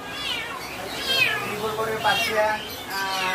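Four-month-old ginger triple-coat Persian kitten meowing repeatedly at an animal market, a series of close, high, wavering mews under a background of market chatter.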